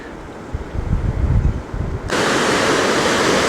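River rapids in a city park, heard as a broad steady rush of water that swells into a loud, constant roar partway through, with wind buffeting the microphone early on.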